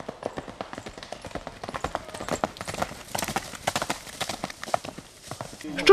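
Horses' hooves clip-clop at a riding school, a dense run of sharp, irregular hoof strikes close by, steady and moderately loud throughout.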